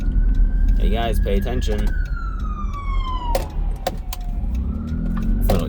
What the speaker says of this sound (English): We got a fucking ambulance coming through.